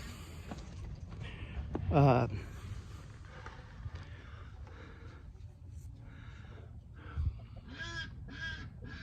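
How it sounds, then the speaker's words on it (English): Ducks quack and honk in short bursts, one loud call early and a few fainter calls later, over quiet outdoor background. "Ducks."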